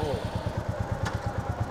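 A Royal Enfield Bullet 350 motorcycle engine thumps at a rapid, steady idle, close by, its regular low pulses filling the whole short stretch.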